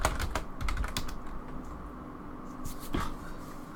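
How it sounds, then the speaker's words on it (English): Steady, close typing on a computer keyboard during a Magic: The Gathering match, a run of quick clicks and taps with short pauses between bursts. "typing in this card for people"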